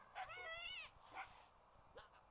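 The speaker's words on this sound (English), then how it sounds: "those dogs think they own the street" Dogs in the video game Little Kitty Big City give a short yipping, whimpering bark followed by a couple of quieter yelps, moderately loud against a faint background.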